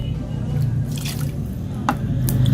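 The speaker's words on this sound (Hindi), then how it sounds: "डबल क्वांटिटी में मैंने इसके बीच में पानी को डाल लेना है" Water is poured into a pan holding vegetable peels, heard as wet splashing and dripping over a low steady hum, with a few sharper liquid splashes near the end.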